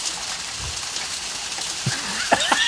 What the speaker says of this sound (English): All this Texas rain has finally moved into Mississippi for the week